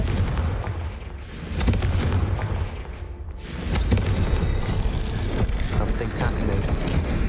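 Confringo fire spells in the video game Hogwarts Legacy go off as loud, dense booming blasts that roll into one another for several seconds, with a voice speaking over them.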